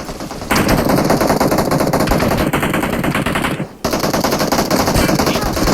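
Rapid automatic gunfire in the mobile battle-royale game PUBG Mobile rattles loudly and continuously, with a brief gap near the middle before the bursts resume at full intensity.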